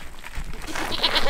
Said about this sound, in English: it climbs like a billy goat.